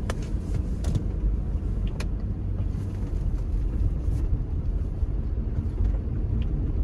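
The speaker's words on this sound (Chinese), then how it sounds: "我们现在开着车回到村子里面去，" A used car with newly replaced brakes driving along a road back to a village: a steady, fairly loud low engine and road rumble with some wind noise, and no talking.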